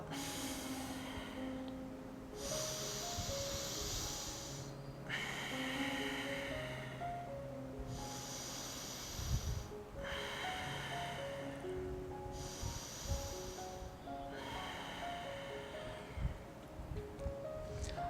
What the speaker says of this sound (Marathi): आपली उजवी नागपुडी बंद करायची आहे आणि डाव्या नागपुडीने आपल्याला श्वास घ्यायचा आहे